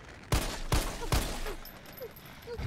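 Three sharp pistol shots from Jill's handgun in the Resident Evil 3 Remake, fired at a monster and spaced about 0.4 seconds apart, loud and close. Faint in-game ambience continues after the shots.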